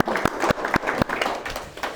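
A small audience claps at a sports talk show, scattered hand claps in an uneven rhythm through a low background murmur.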